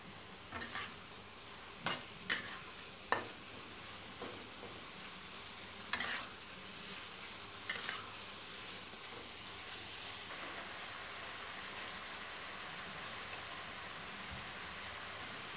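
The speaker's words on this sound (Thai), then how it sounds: "คนให้เข้ากันเนาะ" Chopped eggplant and pork frying in a pan with soybean paste, stirred with a utensil: a steady sizzle runs throughout, broken by several sharp scraping clanks of the spatula against the pan in the first half.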